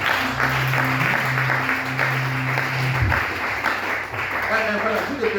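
A church congregation applauds steadily at a worship service, with sustained clapping under loud singing and talk throughout.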